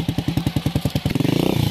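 A motorcycle ridden by a learner chugs close by in a steady rapid pulse, then the engine note quickens briefly as it picks up revs.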